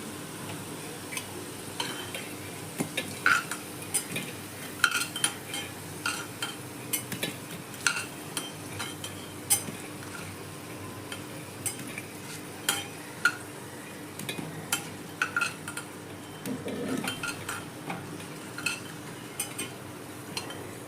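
Golden-brown fried potatoes for Kashmiri dum aloo are scooped from a pan of hot oil into a bowl, with scattered clinks and scrapes of a spoon against metal over a soft continuous sizzle, close and fairly quiet.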